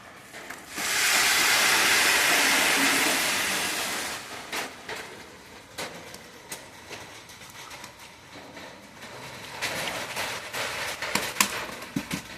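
A pot of coconut khichuri comes to a hard boil with a loud steady hissing rush for a few seconds. It then eases off into scattered soft bubbling ticks and clicks close by.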